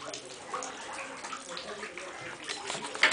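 Water leaking through an indoor ceiling streams and splashes down continuously, a rushing, spattering flow that swells slightly louder toward the end.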